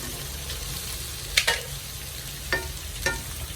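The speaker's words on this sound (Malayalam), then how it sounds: "നന്നായിട്ടൊന്ന് സോട്ട് ചെയ്തെടുക്കാം" Boiled, drained potatoes sautéing in a pan for a Kerala-style potato roast: a low steady sizzle punctuated by a few distinct spatula scrapes and knocks, close and without speech.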